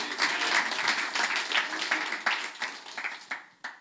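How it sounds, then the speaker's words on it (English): A church congregation applauds a youth team, a dense wash of clapping that tapers into scattered, separate claps near the end, with a few voices mixed in. "A round of applause for our beautiful youth team."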